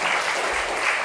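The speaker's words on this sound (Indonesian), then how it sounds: "Tepuk tangan untuk Tuhan Yesus Kristus" Applause from a church congregation during a sermon, a dense, even wash of clapping that holds steady and fairly loud for the whole moment.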